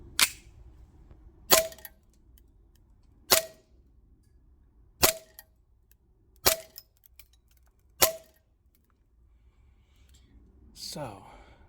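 A Tokyo Marui Samurai Edge Standard Edition airsoft pistol fires 0.2 gram BBs on green gas at a range, six sharp evenly spaced pops about 1.5 seconds apart, close and loud over a quiet background, with a brief rustle at the end.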